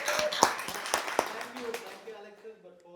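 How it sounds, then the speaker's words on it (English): Light applause from a small audience greeting an investor at a real estate lending talk, with a few sharp claps standing out over talking voices that carry on as the clapping fades. "Let's give him a round of applause."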